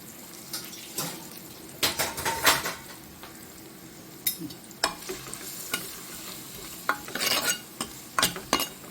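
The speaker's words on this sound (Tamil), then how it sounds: "காய்கறி வதக்கிறோம்" Vegetables sizzle in a pan while a utensil scrapes and stirs in irregular bursts, with clinks of metal against the pan, close up and fairly quiet.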